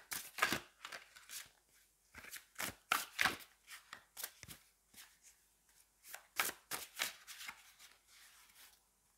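Tarot cards are shuffled and a card is drawn, heard as quiet, crisp flicks and riffles in uneven bursts close to the listener, alone against a silent background.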